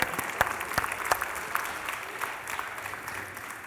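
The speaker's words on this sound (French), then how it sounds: "Une bonne main d'applaudissements." An audience applauds a Gaspé campus team at a Friday amateur competition: a dense, steady wash of many hands clapping, with a few sharper claps standing out early, slowly easing off toward the end.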